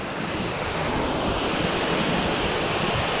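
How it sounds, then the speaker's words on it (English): Water thunders down the Hang Tien seven-story waterfall in Vietnam, a dense, constant roar heard up close, with wind buffeting the microphone over it. "So I guess this would be it. Hang Tien 7-story waterfall."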